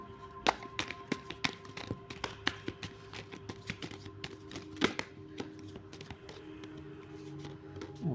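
A tarot deck is shuffled by hand in a series of quick, crisp card taps and riffles with irregular rhythm, close and fairly quiet, with no talking.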